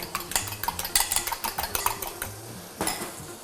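Mixture of vanilla sugar being stirred in a bowl for caramelised pain perdu, a spoon clinking and scraping repeatedly against the sides in quick, uneven bursts, close and fairly loud with no voices.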